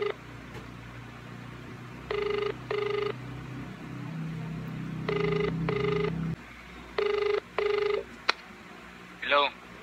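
An outgoing phone call rings back in paired tones, repeated three times at an even pace, faint under a low background hum, with a brief voice near the end.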